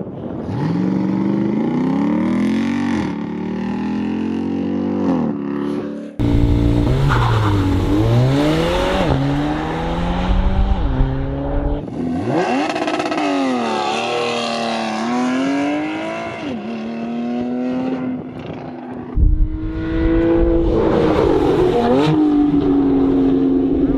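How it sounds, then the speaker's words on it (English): Race cars or supercars on a private track on a windy day, engines revving loud and continuous, pitch repeatedly climbing and falling as they accelerate and shift. "should we hear the first car go?"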